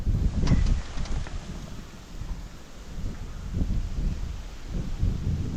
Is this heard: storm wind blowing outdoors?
yes